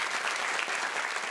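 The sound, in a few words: studio audience applause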